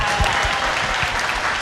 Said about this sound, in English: she deserves applause for that